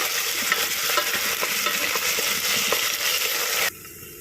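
Curry leaves fry loudly in a pan for a Banjara-style chicken curry, giving a steady, dense crackle and sizzle with stirring scrapes that cut off abruptly near the end, with no voices.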